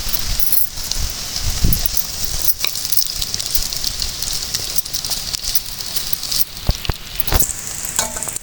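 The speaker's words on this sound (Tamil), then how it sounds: "சின்ன வெங்காயம் ஒரு நூறு வெங்காயம் ரெண்டையும் போட்டு வதக்கிக்கலாம்" Shallots and large onions sauté in a pan with a continuous loud sizzle and frying crackle. A spoon stirs and scrapes throughout, with no talking.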